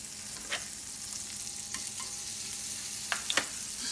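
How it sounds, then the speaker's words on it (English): Foie gras searing in a hot pan, a steady close sizzle and frying hiss with a few small pops and clicks, no voices. "So the pan is nice and hot now. Get a good sear on the foie gras."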